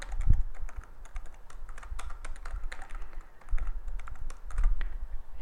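Close computer keyboard typing as an encryption password is entered, irregular bursts of clicky keystrokes with short pauses and a few heavier thumps, no talk.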